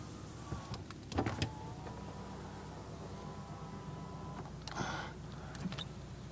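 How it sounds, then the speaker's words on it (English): A power window on a 1987 Cadillac DeVille sedan lowers with a steady motor whir over a quiet background, ending with a brief thump. "Rear window, it goes down."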